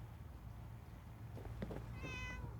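A cat in Fallout 4's Far Harbor meows once near the end, a short, clear, rising call over a low background hum.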